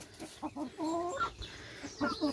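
A rooster and hens cluck and murmur nearby in short, repeated calls, a few overlapping bursts of throaty clucking from the flock.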